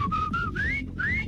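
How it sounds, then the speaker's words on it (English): Whistles of approval on a radio show, a wolf-whistle-like run of rising and sliding tones repeated several times over a low background hum, loud and close. "Does she get whistles from all of us?"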